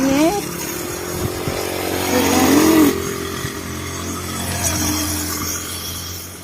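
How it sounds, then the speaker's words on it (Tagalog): A motorized tricycle's engine drones steadily throughout a ride, a loud continuous buzz that swells slightly in the middle, with no talking. "Ako nasakyan na tricycle."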